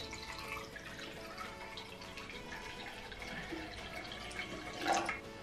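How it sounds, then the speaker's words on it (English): Water trickles and drips gently into a flower vase holding a kenzan, a soft, quiet pour with a brief louder splash near the end and no talking. "Just watering."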